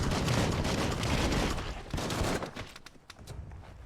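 Dense gunfire in the action video game Biomutant, a heavy, continuous burst of shots that thins into scattered, sharper cracks toward the end, with no talking.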